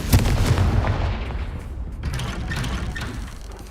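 A Confringo fire spell blast in Hogwarts Legacy, a heavy booming impact at the start followed by a rumbling, crackling fiery roar that slowly fades.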